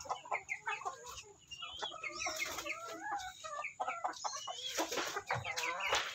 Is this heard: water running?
no